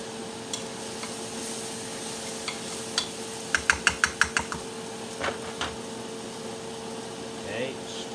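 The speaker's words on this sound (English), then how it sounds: "stir on my flour" Flour being stirred into beef stroganoff in a pan gives a run of sharp clicking spoon taps against the pan over a low sizzle and steady background hum, with no talk.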